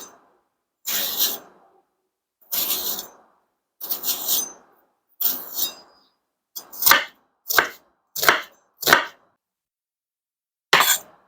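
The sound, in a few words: chopping onion with a knife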